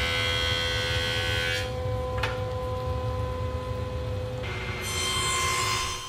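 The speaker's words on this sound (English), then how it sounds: "Ripping it to width on the table saw and then switching over to a sled, I cut it to final length." A table saw rips a maple board to width, its steady motor whine and cutting noise loud and close, with the blade pitch dropping under load in the middle and rising again as the cut finishes.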